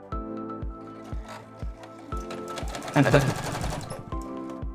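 Sewing machine top stitching along both sides of a fabric strap for a wallet, short rhythmic bursts of motor hum and needle clatter with brief pauses between runs, close and clear.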